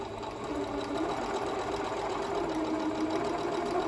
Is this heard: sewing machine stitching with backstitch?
yes